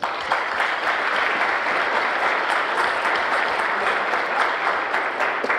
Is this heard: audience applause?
yes